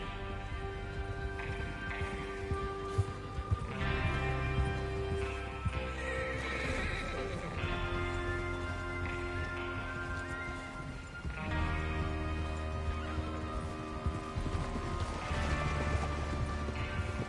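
Red Dead Redemption 2 horses whinny and neigh repeatedly over a dense, continuous layer of hooves and rumbling motion, loud and close, with no pauses.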